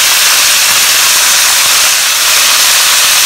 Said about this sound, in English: You need to fry this at high heat because we need the sauce to settle, and calamaris, they cook very fast.